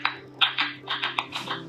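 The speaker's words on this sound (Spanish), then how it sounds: "Este es el sonido de una planta con sed." A thirsty plant gives off a quick run of small irregular clicks and ticks, close and fairly crisp, with a faint steady hum underneath.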